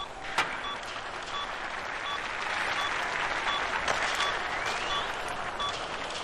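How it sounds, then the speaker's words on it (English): Polite crowd applause fills an arena in the NHL 2004 hockey video game, a steady clapping wash lasting throughout with no talk on top. "Polite applause."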